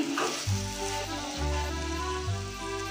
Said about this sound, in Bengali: এখানে দেখুন কলার ফুলটা আমি অনেকটাই কষিয়ে ফেলেছি